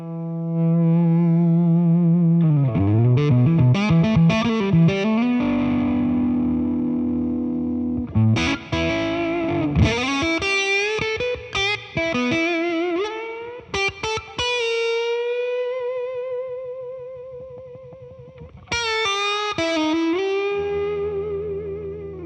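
A 1951 Gibson Les Paul Goldtop with original electronics plays alone through distortion, mixing sliding bends, sustained notes and choppy bursts, loud and close with a gritty, effected tone.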